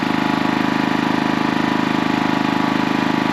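A portable generator engine fitted with a brand-new carburetor runs at a steady, even idle, its continuous mechanical drone loud and unbroken throughout with no talking.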